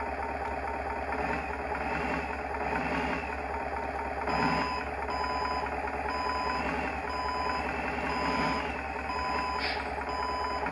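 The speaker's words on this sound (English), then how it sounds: "There's a backup beeper and air purge for the brakes." An RC truck sound module plays a repeating electronic backup beeper over a steady idling diesel-truck engine, with evenly spaced beeps continuing throughout the run.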